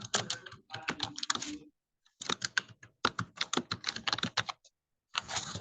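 Fingers type on a computer keyboard in quick clattering bursts of keystrokes, separated by short pauses, close and fairly quiet.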